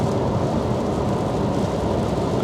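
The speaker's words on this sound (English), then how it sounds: "Of course it rains 5 minutes after you wash your car." Rain falling around a parked car just after it was washed, a steady, dense hiss with no distinct drops or breaks.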